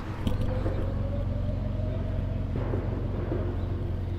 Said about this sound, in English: You can still hear the SVJs in the distance.